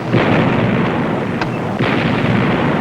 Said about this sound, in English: Big guns booming.